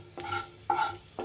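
Nigella seeds frying in a little mustard oil, stirred in short scraping bursts over a soft sizzle, three strokes close to the pan with no talk.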